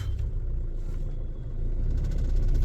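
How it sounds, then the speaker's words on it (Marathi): Steady road traffic rumbles across the Dahi bridge at Panchavati, near the Ganga Ghat, with car engines droning close by and swelling louder toward the end, and no voices. "अजून पण दही पुलावरती गाड्यांची ट्राफिक आहेच"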